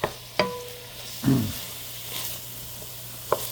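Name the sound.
vegetables sautéing in a pan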